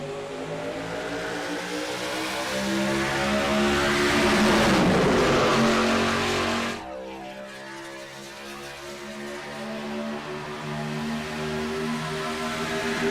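Racing trucks in a Daytona truck-series video game race roar as they accelerate off the green flag, engines building to a loud peak mid-clip, then dropping away and climbing again as the pack pulls off.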